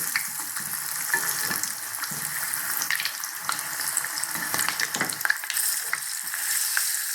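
Sweet potato bonda fry in hot oil with a steady, close crackling sizzle and scattered popping bursts, unbroken and without talk.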